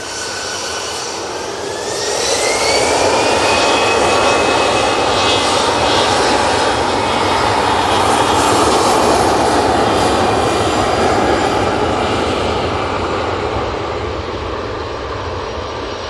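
EasyJet jet airliner taking off at Manchester Airport, a loud sustained engine roar that swells after two seconds and holds steady, with a rising whine, no talk.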